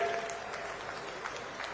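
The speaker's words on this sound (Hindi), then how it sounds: "मैं चाहता हूं हमारे मुख्यमंत्री जी का जोरदार तालियों से हम सब लोग अभिनंदन करें" Crowd at a BJP rally in Balaghat applauding Chief Minister Shivraj Singh Chouhan, a steady, dense wash of clapping with a faint murmur of voices underneath.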